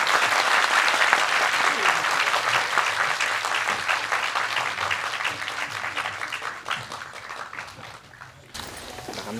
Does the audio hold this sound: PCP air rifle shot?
no